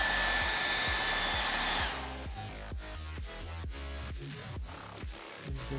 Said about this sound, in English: just due to the help of a little bit of a hair dryer and a little bit of time